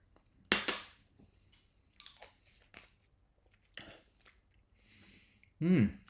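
Someone chews and crunches a spoonful of miso chilli oil, a sharp bite at the start followed by scattered soft mouth clicks and smacks up close, with brief speech-like noises in between.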